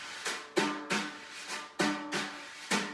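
Circular rubbing on a snare drum head, imitating a güiro: six raspy, scraping strokes in a steady repeating rhythm, each starting sharp and fading, close and fairly quiet with no voices.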